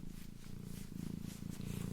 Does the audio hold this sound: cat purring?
yes